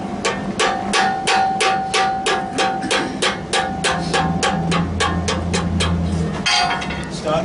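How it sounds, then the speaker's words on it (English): Blacksmith hammering hot metal into a bevelled leaf scroll curl, a rapid steady series of sharp ringing hammer strikes close by, with a brief pause near the end before a few more blows. "Now my hammer's staying fairly still and I'm engaging the tong."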